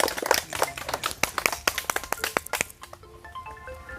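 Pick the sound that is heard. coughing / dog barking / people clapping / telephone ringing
people clapping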